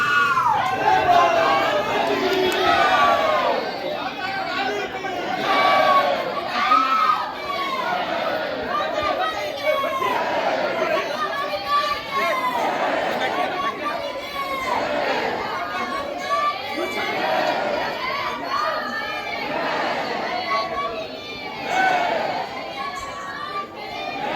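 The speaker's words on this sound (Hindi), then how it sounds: "बहुत शक्तिशाली हैं, क्योंकि बहुत ज़्यादा भीड़ है।" A large crowd of devotees fills a temple dedicated to a mother goddess, producing a constant wash of overlapping chatter and children's voices that never lets up, with a person talking over it.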